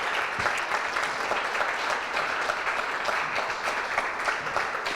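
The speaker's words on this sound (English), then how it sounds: "Let's give them another huge round of applause." A large audience at a tech demo day fills the room with sustained, dense clapping at close range, steady throughout with no voices over it.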